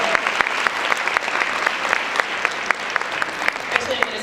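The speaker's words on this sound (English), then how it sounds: "So just give yourselves a round of applause." A crowd applauds at the National Women in Roofing Day 2023 awards and closing session, a steady roar of many clapping hands with a few sharper individual claps standing out throughout.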